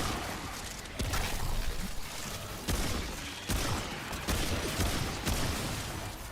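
Gunfire in the game Remnant 2, several sharp shots spaced about a second apart, each followed by a brief rumbling tail over a steady background bed.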